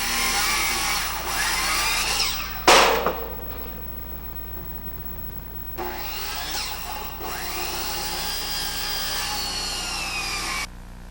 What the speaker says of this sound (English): use an electric saw to make the plumb cut